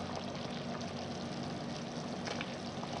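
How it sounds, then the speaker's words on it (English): Filé powder poured from a whole 1.25-ounce jar into a 22-quart pot of New Orleans style gumbo, giving a steady soft rushing pour that stays constant throughout, close and fairly loud with no talk. "I know for this 22 quart pot, I'm putting this whole jar of filet"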